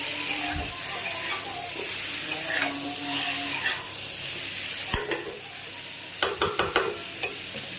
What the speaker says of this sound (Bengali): এইভাবে ভাজতে হবে